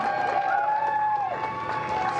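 A small crowd gives a brief burst of cheering and clapping for NASA astronauts Bob Behnken and Doug Hurley as they emerge at the SpaceX launch. It is heard at a distance under a steady tone and a commentator's voice.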